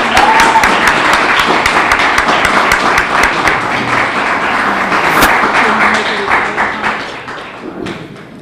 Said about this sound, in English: How about an extra round of applause for Isaiah?